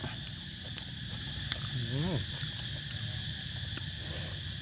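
Cicadas chirp at night outdoors in a steady, shrill drone with a few sharp clicks and a brief rising call from another creature, moderately loud throughout.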